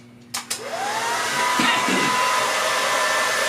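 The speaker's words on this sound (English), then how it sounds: "Now we diffuse it. Diffuse it means to give it indirect heat to spread out." A hair dryer fitted with a diffuser, drying curly hair at a barbershop, clicks on and spins up to a steady, close, continuous whirring blow, with no talk over it.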